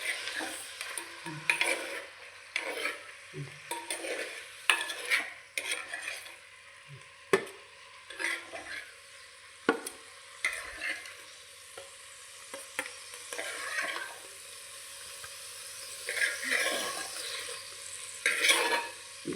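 Mackerel fillets frying in a pan give off a steady close sizzle, and a utensil repeatedly stirs and scrapes against the pan in irregular bursts. No voices.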